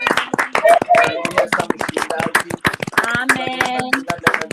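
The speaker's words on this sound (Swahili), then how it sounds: "unaweza kushangilia kwa pale wiko, piga kwa mikono" A prayer group congregation claps their hands in quick, rhythmic bursts, close and loud, mixed with voices speaking over the clapping.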